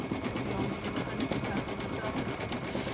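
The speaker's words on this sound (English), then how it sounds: "The fill stitch is almost done stitching." An embroidery machine stitching a fill pattern on a holiday tree design, a fast steady close mechanical whir with rhythmic needle pulses and no break.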